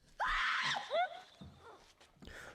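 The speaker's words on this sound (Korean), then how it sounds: "그녀는 그루누이를 보고 화들짝 놀라 소리를 지르고" A woman in a film screams in surprise, a sudden loud high shriek followed by a second short cry and a fading groan, with no speech.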